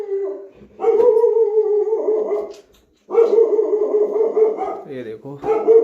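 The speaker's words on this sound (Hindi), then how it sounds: "देखो कितना जोर जोर से भौंक रहा है, पता नहीं क्या आ गया बाहर" A dog at a house in a Pahadi village barks loudly in long, drawn-out howling barks, close by, with a short pause between two bursts.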